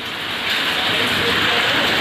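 Heavy rain with strong wind in Jalalpur, Uttar Pradesh, pours down in a dense, steady hiss, growing louder after a moment, with gusty noise mixed into the roar.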